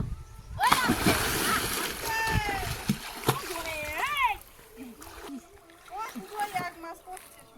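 Splashing water as people wade into a village pond in the Sundarbans, with loud sloshing and splatters up close while voices talk and call out over and between the splashes.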